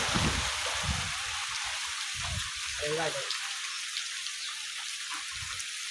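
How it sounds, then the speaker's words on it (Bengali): Steady rain pours on a village during a stormy day, making a dense, even hiss throughout, with faint low voices underneath. "বৃষ্টির দিন চমৎকার সুন্দর বৃষ্টি"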